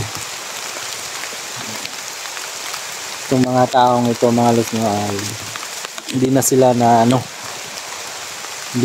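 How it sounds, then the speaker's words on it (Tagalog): Heavy rain hisses steadily throughout as a constant wash of noise, while someone talks over it in two stretches. "Umuulan pa kasi dito, so kailangan muna namin ng magpasilong kasi malakas yung ulan."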